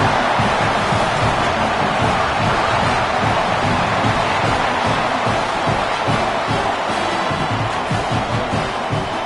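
A football stadium crowd roars after a touchdown, a dense, loud, continuous wash of cheering that holds steady throughout with no single voice standing out.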